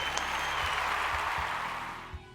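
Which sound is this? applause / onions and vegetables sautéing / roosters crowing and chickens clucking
applause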